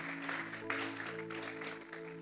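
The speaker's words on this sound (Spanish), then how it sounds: "Vamos a darle una ofrenda de palmas a ese Dios en esta hora." Church congregation clapping together during a Sunday service, a steady, dense applause that runs throughout with sustained musical tones held underneath.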